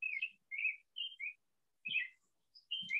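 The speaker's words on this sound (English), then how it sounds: "Oh, the bird." Outdoors in a grove, a bird gives short, bright chirps in small clusters separated by quiet gaps. The calls are fairly soft, with a couple of dull low thumps nearby and no talking.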